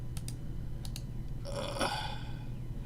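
Computer mouse clicks come in two quick double-click pairs, faint and crisp over a steady hum, followed by a brief electronic chime.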